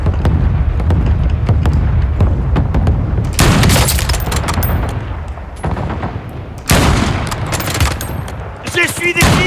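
Loud Call of Duty gunfire pours out in rapid automatic bursts and crackling volleys, with heavier booming blasts and a short lull in the middle before the shooting surges again.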